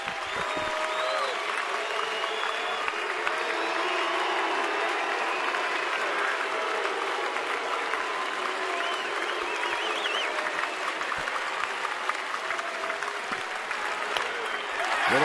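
Baseball stadium crowd of 34,000 roaring and chanting in a steady wash of sound, with broad crowd noise filling the ballpark continuously.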